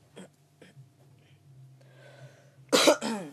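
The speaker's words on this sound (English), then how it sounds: "Sorry if I'm coughing a bit." A sick person gives a few soft, isolated coughs, then a louder harsh cough near the end, close to the listener over a low steady hum.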